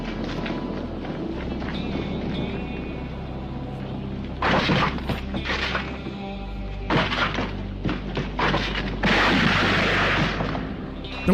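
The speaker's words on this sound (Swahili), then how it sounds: "Chong-li alijaribu kujibu kupiga risasi, na yeye wakawa wamemtandika risasi Chong-li." Gunfire rings out in a war movie dubbed into Swahili, with bursts of sharp shots and heavy crashing impacts over a low rumbling score, loud and close.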